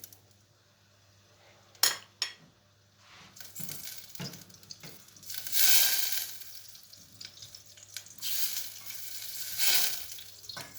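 Apples sizzle and fry in oil in a pan for Turkish apple flour halva, with soft crackling that swells and fades as they are stirred, plus sharp clinks of a utensil against the pan early on; close and fairly quiet, no talk.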